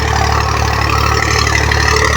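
A tractor drags a wooden field leveller on a farm, its engine running in a loud, steady low chug close by with no pauses.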